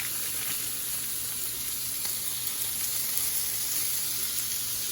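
Breakfast food sizzling steadily in a hot pan, a continuous bright frying hiss with faint crackle that holds at an even level throughout with no talking.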